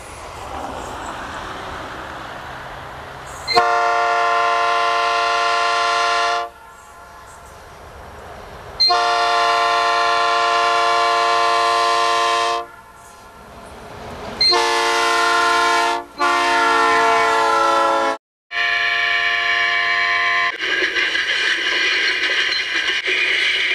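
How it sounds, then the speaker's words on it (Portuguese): A fast passenger train arriving on the Borin to Suspiro line sounds its horn in several long, loud, sustained blasts with short gaps between, with rumbling rail noise underneath. "O trem vem chegando"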